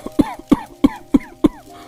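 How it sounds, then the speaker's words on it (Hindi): Five harsh coughs in a quick, even series, close and loud, with a slight rasp. "बहुत खांसी आ रही है।"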